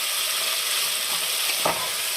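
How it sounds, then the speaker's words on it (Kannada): Peas and mixed vegetables fry in a pan with a steady, dense sizzle. The hiss keeps going with no pause, and near the end a brief clatter of stirring breaks through. "ಎಲ್ಲವನ್ನು ಚೆನ್ನಾಗಿ ಮಿಕ್ಸ್ ಮಾಡಿ ಫ್ರೈ ಮಾಡಿಕೊಳ್ಳಬೇಕು."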